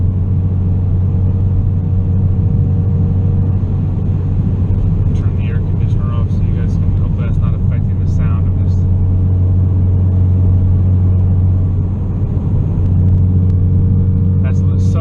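A 2016 Ford Focus RS in sixth gear at 70 mph fills the cabin with a loud, constant low engine drone and road rumble, with a person speaking over it.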